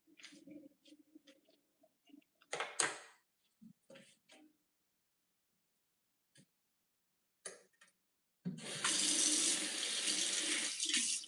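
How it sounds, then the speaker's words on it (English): Ice-cold water gushes from a tap in a loud, steady stream for the last few seconds, after scattered quiet talk and throat sounds. "that water coming out of here, ice cold"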